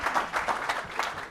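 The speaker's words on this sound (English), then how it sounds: "Ladies and gentlemen, a big round of applause." An audience at a leadership summit in India claps in a short burst of steady, dense applause that stays even and moderately loud, with no talk over it.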